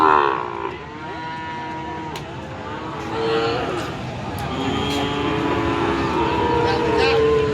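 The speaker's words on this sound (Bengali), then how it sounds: "এরকম ছোট ছোট বাছুর গরুগুলো" Sahiwal-breed calves lowing at a busy rural cattle market in Rustampur, Rajshahi, several drawn-out moos rising over a constant crowd murmur and nearby engine rumble.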